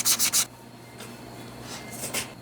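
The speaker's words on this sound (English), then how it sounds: "Do a little polishing right here." Rust being polished off the snout of an LS 5.3 crankshaft gives a close, steady rubbing scrape, with a few brisk louder strokes at the start and softer continuous rubbing after.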